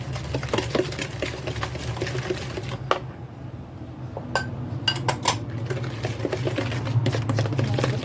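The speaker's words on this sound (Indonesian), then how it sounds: "langsung tak aduk-aduk sampai jadi satu" A utensil scrapes and clinks steadily against a bowl as cake batter with granulated sugar is stirred by hand, the rapid knocks running close and continuous with a few sharper taps.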